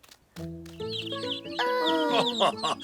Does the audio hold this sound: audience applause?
no